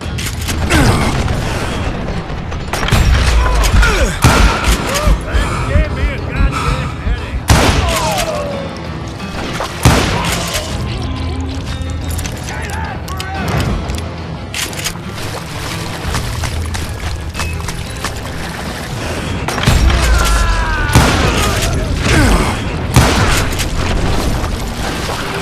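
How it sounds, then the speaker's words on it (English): A fusillade of gunfire and explosions in the Western shooter game Call of Juarez: Gunslinger comes as dense, loud, overlapping shots and booming blasts that run almost without pause throughout, close and intense. "a fusillade of bullets come raining down from on high"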